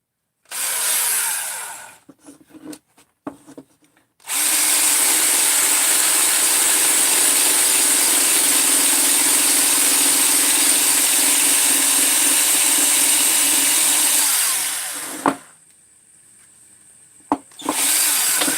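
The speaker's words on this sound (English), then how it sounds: "I think I'm going to use the Scotch-Brite wheel here" A power tool fitted with a Scotch-Brite wheel cleans a chainsaw crankcase. After a few short bursts it runs as a loud, steady whine for about eleven seconds, then spins down.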